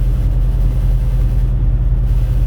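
A truck engine drones low and steady from inside the cab, a loud, continuous rumble that holds without clear change as it slows.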